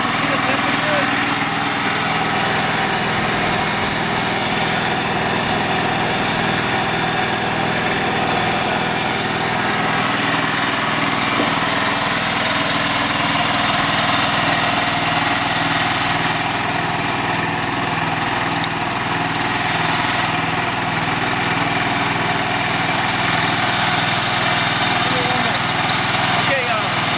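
Amtex Prowler 14 HP machine engine idling steadily at lowered RPM, a loud continuous hum running without a break from start to finish.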